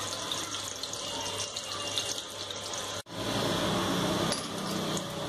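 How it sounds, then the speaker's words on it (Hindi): Cumin seeds frying in hot oil in a pan, a steady dense sizzle and crackle that drops out briefly before resuming just as loud, with no talking. "जीरे को हल्का सा कलर चेंज होने तक फ्राई करेंगे।"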